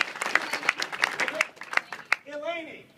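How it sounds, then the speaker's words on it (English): Audience at a comedy panel gives a scattered round of applause, a few loose claps rising and falling, with a voice speaking over the end. "Give her a round of applause."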